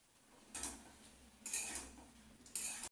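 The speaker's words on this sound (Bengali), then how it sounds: "একটু ভালো করে জলের মধ্যে গুলে নিলাম" A spoon stirs a ghee mixture in water inside a vessel, clinking against it in three distinct bursts about a second apart, each fading quickly, close and fairly quiet, with no talking.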